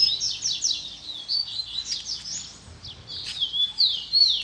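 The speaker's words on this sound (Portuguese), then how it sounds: "Passarinhada arrebentando." Wild songbirds, coleiros, tico-tico and mateiro, chirp and trill steadily outdoors, a dense overlapping chorus of quick high whistles with no talking.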